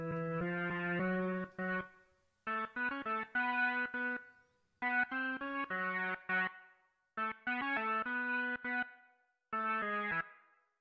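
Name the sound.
Dirty 70s distortion effect on a track in Cubase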